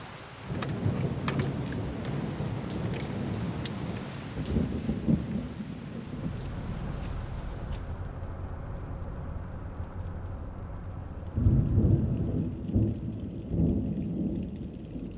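Heavy rain pours steadily with deep rolling thunder rumbling throughout, a loud crack and boom near the end, during an Arizona thunderstorm with lightning.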